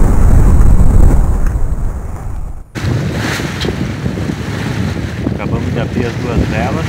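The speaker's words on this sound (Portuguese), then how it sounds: "Hoje está uns 15 nós de vento, 20, 22 nós de rajada." Strong wind of about 15 knots, gusting to 20–22, roars across the microphone on a sailboat, a steady loud rush with water noise that briefly dips and then resumes.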